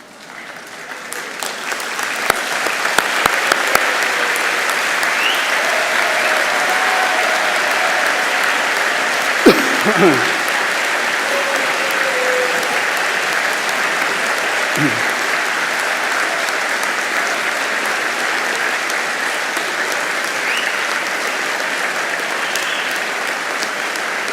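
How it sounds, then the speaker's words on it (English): A large graduation crowd of veterinary and veterinary nursing graduates and families gives a sustained round of applause, a dense even roar of clapping that swells quickly and holds steady, with a few faint voices and knocks within it. "give them a big round of applause"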